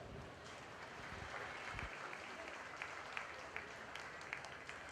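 Dense applause from spectators at a livestock market steer show, clapping for heifer exhibitors in the show ring, a steady, continuous patter that lasts throughout with a few sharper claps standing out.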